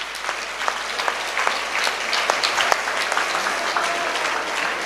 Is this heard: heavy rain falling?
no